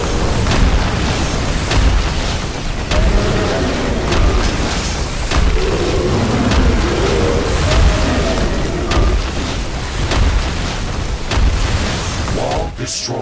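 Repeated booms and bursts as a wall and a tower are destroyed in the video game The Riftbreaker, heavy and continuous under game effects, with a synthetic voice announcing events.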